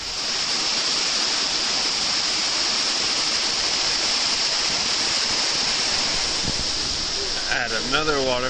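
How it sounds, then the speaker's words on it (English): Maruo Falls, a 23-meter waterfall, pours in a dense, steady hiss of rushing water, loud and unbroken, with a brief tonal chirp near the end. "Another waterfall, this is Maruo Falls."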